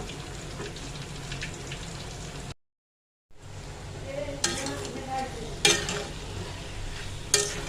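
Shrimp and vegetables frying in a pan, a steady sizzle broken by a short gap, with several louder scraping stirs near the end and no talking.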